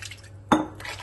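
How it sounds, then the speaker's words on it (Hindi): Water from a jug pours into a cooking pot in a home kitchen, starting with a sudden close splash midway and continuing as a steady wash. "इसके साथ ही इसमें डालूंगी पानी।"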